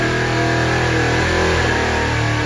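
An engine fitted with a 4150-style carburetor roars on a dyno during a full power pull. The sound is loud, continuous and close, with no talking over it.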